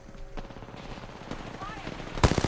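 Gunfire in Apex Legends, with rapid repeated shots from a nearby automatic weapon, building to a loud burst at the end, mixed with game sounds and a player's voice.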